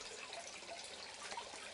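Water pours and splashes steadily out of an aquaponics fish pond that also serves as the sump, a continuous close, even hiss of running water with no talk.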